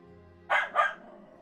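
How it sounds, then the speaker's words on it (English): Two quick, sharp dog barks in close succession, loud and near over a faint background hum, from dogs barking at each other in play. "Now they're barking at each other because they're trying to play"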